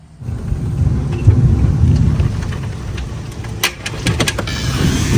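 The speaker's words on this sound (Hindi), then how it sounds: "ये ज़रा बारिश का ज़रा जोर चेक करें, कितनी तेज़ हवा चल रही है और बारिश का शोर कितना है" Heavy rain driven by strong wind in a small US city, a steady loud wash of downpour and gusts throughout with a few sharp bright spatters near the end.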